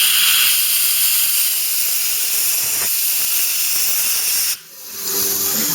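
Compressed air blasts from a nozzle clearing debris out of a Ford Cortina MK3 part, a loud continuous broadband hiss that cuts off briefly near the end before resuming, close to the listener.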